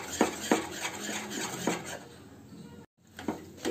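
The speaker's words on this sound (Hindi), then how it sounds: "आपको इसको कॉन्टिन्यू स्टर करना है, चलाते रहना है इसको" A spoon stirs a thickening peda mixture in a metal pan, scraping and clinking with several sharp knocks against the pan amid softer continuous scraping.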